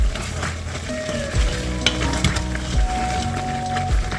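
Potatoes cook in a pot over medium heat while a utensil stirs them, giving a steady sizzle with occasional knocks and scrapes against the pot.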